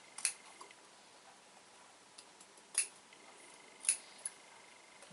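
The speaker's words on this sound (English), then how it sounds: "So just snip all the way through." Scissors snip through fabric and its lining in a quiet room, giving a few separate crisp cuts spaced a second or so apart, with faint rustling between them.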